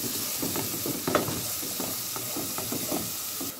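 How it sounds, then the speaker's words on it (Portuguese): Two garlic cloves sautéing in a hot pan, a steady close sizzle and hiss with scattered spitting pops and occasional stirring scrapes, no talk. "agora eu vou botar os dois dentes de alho. Vou dar uma refogada aqui"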